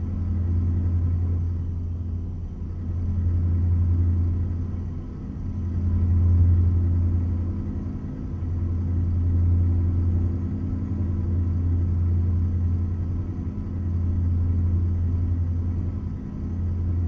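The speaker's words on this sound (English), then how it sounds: "Truck sounds good." Truck engine in American Truck Simulator, a steady low droning rumble cruising along, with gentle periodic swells in pitch and loudness and no talk over it.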